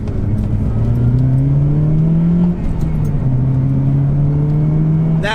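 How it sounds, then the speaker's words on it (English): A Honda Civic Type R FD2 pulls away and accelerates, its engine note rising through the revs, dipping briefly at a gear change, then climbing again, heard loud and close from inside the car. "let's just hit the road, go for a little drive"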